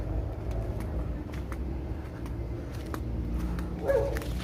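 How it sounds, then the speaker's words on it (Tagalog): Dog barking near a cemetery, a few short sharp barks over steady low background rumble, with one louder bark toward the end. "Uy, aso."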